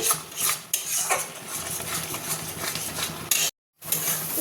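Banana stem paste (thor bata) is being stirred and fried in a pan, giving a steady scraping and rasping of a utensil against the metal with a faint sizzle, close and continuous, with a brief gap near the end.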